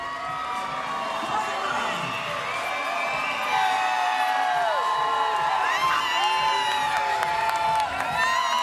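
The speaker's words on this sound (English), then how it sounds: "A huge cheering section for Gordinha, Emily Ducote." Arena crowd at Bellator 167 MMA event cheering loudly for a fighter, with whoops and shouts rising over a continuous roar, commentary voices mixed in.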